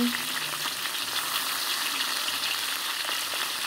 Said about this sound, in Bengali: মুড়িঘণ্টর জন্য মাছের মাথাগুলো ভেজে নেই